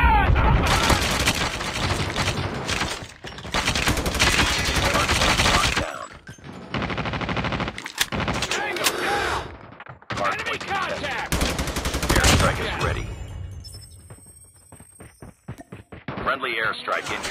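Call of Duty multiplayer gunfire rattles in repeated bursts of rapid automatic shots, loud and close. Gaps of quiet break up the bursts, and game voice callouts speak over parts of the firing.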